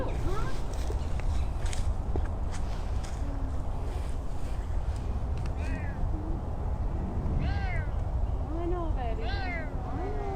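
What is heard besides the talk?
Savannah cat meowing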